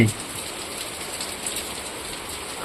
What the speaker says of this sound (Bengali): এটা হচ্ছে মন মুগ্ধকর বৃষ্টি